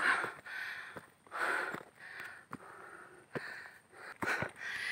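A hiker climbing a hill toward a hilltop overlook breathes heavily, with about five or six loud, rasping pants and gasps that come in irregular bursts. The breathing is very close and stands alone without talk.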